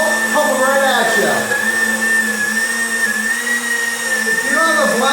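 A blender runs continuously while liquefying a blueberry smoothie, a loud steady motor whine with shifting pitch, close up, with a voice speaking over it.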